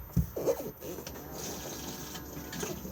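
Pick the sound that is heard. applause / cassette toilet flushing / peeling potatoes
cassette toilet flushing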